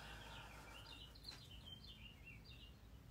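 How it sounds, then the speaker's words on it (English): Faint bird chirps and tweets come from a distance over a steady low rumble of background noise, scattered through a few seconds. "Can you hear those birds outside?"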